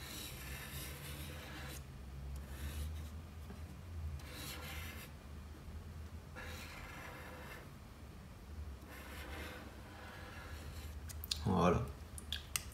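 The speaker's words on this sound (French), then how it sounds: "Et on va venir faire un petit cercle sur notre feuille." A pencil compass sweeps around a sheet of paper to draw a small circle, making soft, faint scraping strokes in repeated passes, with a sharper scratch near the end.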